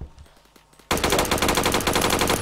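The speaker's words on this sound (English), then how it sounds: "Oh my god, I can hear the gunshots." Rapid automatic gunfire erupts in the Roblox shooter Phantom Forces, a loud, dense burst of repeated shots after a quieter stretch of faint intermittent clicks and distant pops.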